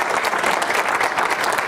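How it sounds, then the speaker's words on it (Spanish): A church congregation applauding, steady dense clapping from many hands filling the room, loud and close, with no talk over it. "demos un aplauso al Señor."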